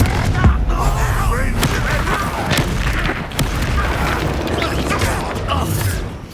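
Blasting spell explosions in the video game Hogwarts Legacy, a dense run of loud booms and crackling impacts over continuous battle noise, with a short lull midway.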